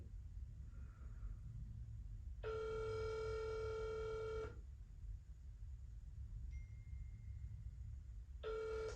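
A telephone rings back twice through a handset while a caller waits to be connected to a CDL trucking school; long harmonic ring tones stand out over faint line hiss, with no talking.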